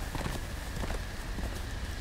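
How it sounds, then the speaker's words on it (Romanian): A horse gallops away in a Game of Thrones video game, rapid hoof clip-clops repeating in a quick rhythm over a dense background, close and fairly loud. "Mi-a fugit calul."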